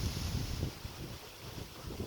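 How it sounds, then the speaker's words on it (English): Wind buffets an outdoor microphone in a brief, soft, steady rush with low gusty rumbles and no voices. "Well, it's too windy to film."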